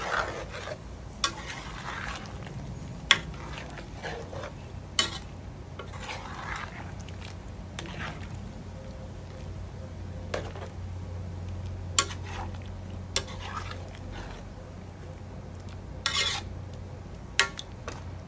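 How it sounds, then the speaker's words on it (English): A spoon stirs Jamaican stew peas in a pot, with soft scraping and occasional sharp clinks of metal against the pot over a low simmer. "Just a nice little stir here."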